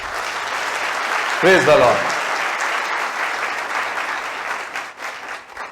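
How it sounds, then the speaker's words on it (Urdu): A church congregation at a Sunday sermon breaks into a burst of applause, a dense steady clapping that fills the space throughout, with a short spoken exclamation rising over it. "تالیاں یہ بتاتی ہیں بہت"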